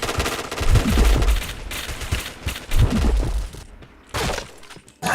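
Rapid automatic gunfire from a first-person shooting video game, loud bursts of sustained firing broken by brief pauses, with a short quiet gap near the end before the shooting resumes.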